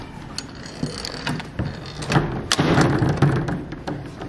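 A university study room door thuds and knocks several times in quick succession, followed by heavy close thumps and mechanical clunks as though it is breaking.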